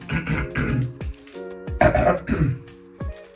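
Harsh, throaty coughing in several bursts, loud and close, with throat-clearing between fits.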